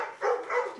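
A pet dog, excited at being given cookies after a run, gives two short, close, loud barks with no one talking.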